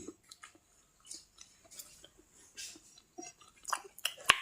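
Someone eating a boiled egg, producing soft, close, irregular chewing and biting sounds with small mouth noises and faint clinks, quiet between bites, with no talking.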